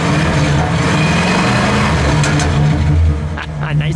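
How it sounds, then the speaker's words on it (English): A 1967 Ford Galaxie 500 convertible with a 428 cubic-inch V8 and dual exhaust revs hard from idle, a loud, throaty engine roar that swells and then falls back. "Go ahead, give it a rev."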